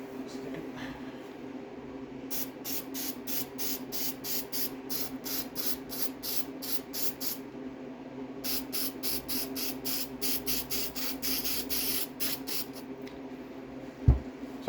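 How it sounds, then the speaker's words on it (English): Spray adhesive hisses from a can while a Triumph TR6 car seat is recovered, coming in rapid repeated bursts: a long run of short sprays, a pause, then a second run, over faint background hum. "I need a bit more spray."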